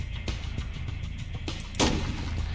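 Sniper gunfire in the Roblox game Survive the Sniper: several sharp shots crack in quick succession, ending with one louder, fuller blast.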